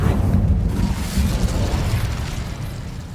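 A loud, roaring burst of flame erupts from the Incendio fire spell in Hogwarts Legacy, with a dense rumbling whoosh that holds strongly and then slowly fades over a few seconds, heard alone.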